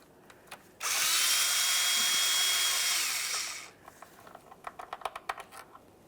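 A power driver spins a T20 Torx socket on transmission filter bolts of a 1994-2001 Dodge Ram 1500, one loud steady whir of about three seconds, then a quick series of clicks and rattles as the bolt comes free.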